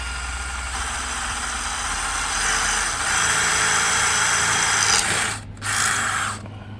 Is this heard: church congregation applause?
no